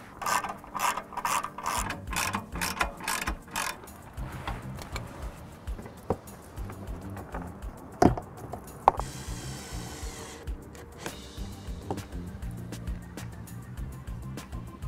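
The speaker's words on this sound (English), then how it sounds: "there's some 10mm bolts under the bumper that we need to loosen off" A ratchet wrench clicks rapidly in bursts while loosening 10mm bolts under a car bumper, close and fairly loud, with a few sharp metallic knocks and quieter stretches in between.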